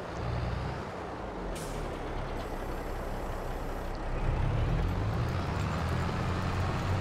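A tractor drives across a field in Farming Simulator 22 with a steady low engine rumble and rolling noise, a short hiss of air near the start, and the rumble growing slightly heavier partway through; no talking.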